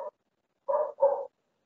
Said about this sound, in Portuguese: meu cachorro tá latindo